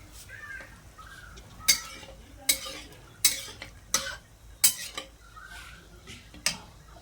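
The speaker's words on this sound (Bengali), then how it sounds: "ধীরে ধীরে নাড়তে থাকবো" A spoon stirs an aloo-lauki potato and bottle gourd vegetable curry in a pan, making a series of sharp scraping clinks against the metal about once every second over a soft background sizzle, with no talking.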